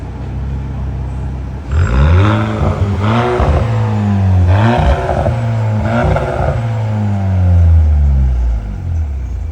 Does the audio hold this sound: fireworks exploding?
no